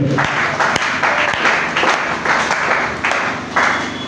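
A church congregation claps together in a loud, dense burst of applause that swells and fades in waves, heard close at hand, with no speech over it.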